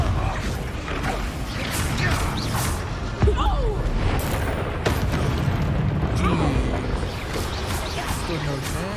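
A Confringo explosive spell blasts during a Hogwarts Legacy battle, with booming impacts over dense game noise and a voice talking throughout.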